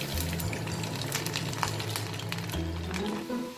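Garlic and mustard seeds fry in hot oil for a beetroot pickle, making a dense, steady sizzle close by with a few crackles and a low hum under it, and no talking.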